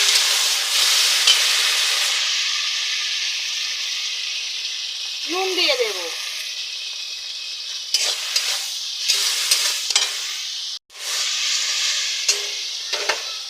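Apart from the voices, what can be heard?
tomato and onion frying and being stirred in a pan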